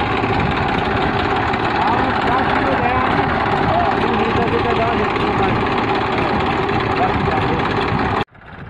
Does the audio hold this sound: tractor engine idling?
yes